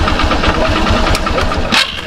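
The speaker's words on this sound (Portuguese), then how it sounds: "Pode ligar a moto aí." A Honda Fan 125 motorcycle with a noisy engine starts and runs, a steady close mechanical drone with a brief surge near the end.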